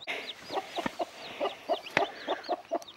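Mother hen and her chicks cluck together close by, with repeated short soft clucks layered under brighter high cheeping from the chicks, steady and busy for a few seconds.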